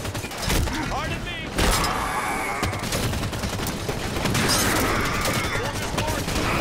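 Dense bursts of gunfire in Halo 5: Guardians, rapid weapon shots and explosive booms crowding together loudly and continuously, with a player's voice speaking over the combat.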